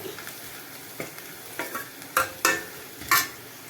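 Onions sautéing in a pan for tomato kuzhambu, a low sizzle broken by several sharp scrapes and stirs of a spoon that grow louder toward the end.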